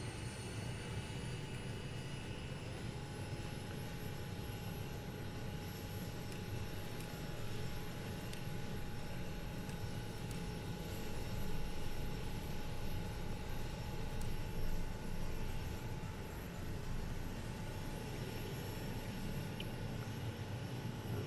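Kodiak K100 single turboprop engine running steadily up close after fuel is introduced, a constant loud whine with sustained high tones over a broad rumbling roar, unbroken throughout.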